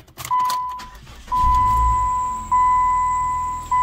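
A car's ignition chimes with steady tones, then the engine of a car with 145,000 miles and a slight belt squeak cranks and catches with a low rumble, followed by a second surge as it idles.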